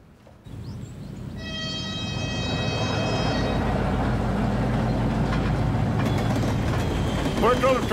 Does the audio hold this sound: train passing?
yes